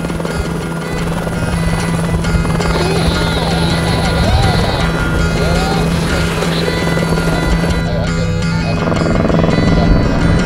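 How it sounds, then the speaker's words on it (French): Loud, steady thudding drone of a helicopter nearby, rotor and engine noise filling the whole clip without letting up. "on a fait appel à Emile, un pilote d'hélicoptère qui connaît très bien la région."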